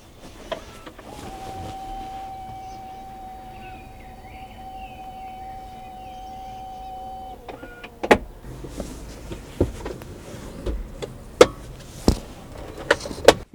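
Inside an Arcfox car, a motorized moving bar glides with a thin, steady electric motor whine lasting several seconds, then stops, followed by a series of sharp clicks and soft thumps as it settles and is handled.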